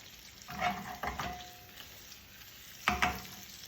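An egg seasoned with a little pepper and salt fries in a pan, giving a soft steady sizzle broken by a few louder scraping bursts and a brief ringing tone, with no voices.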